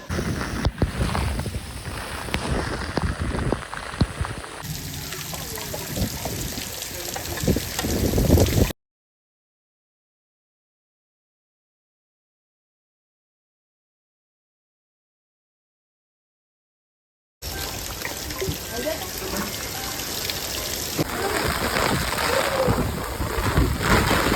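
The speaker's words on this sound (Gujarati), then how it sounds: "ફૂલ પવન ને ફૂલ ગાજવીજ છે વરસાદ ધીમો છે" Strong wind roars with thunder and light rain during the first rain of the season in Rapar, Vagad. The noise is a broad, continuous wash that drops to total silence partway through, then resumes, with no talk.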